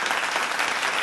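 Crowd at a Mangalagaur competition in Thane applauds a team, a brief burst of dense, close hand clapping with a faint murmur beneath.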